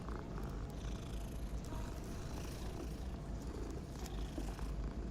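Steady, close purring of a cat in a video game, a low rumbling texture running unbroken throughout with no speech over it.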